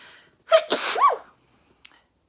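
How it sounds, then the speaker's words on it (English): A single loud sneeze with a sharp inhaled buildup and a burst of breath, followed by silence and a faint click. "I have to sneeze again"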